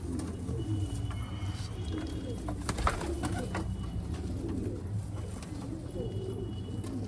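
Pigeons coo softly amid a noisy outdoor background, with scattered flutters and shuffling throughout.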